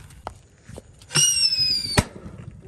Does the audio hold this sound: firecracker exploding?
yes